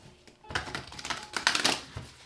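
A deck of oracle cards is shuffled by hand in a few quick riffling bursts, crisp papery flutters close up with a quiet pause first.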